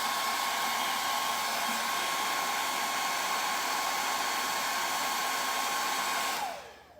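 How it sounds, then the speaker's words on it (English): A hair dryer blows steadily and loudly with a constant whine in a garage, then switches off and winds down at the very end. "I dry them with a hair dryer because it's just quicker for me."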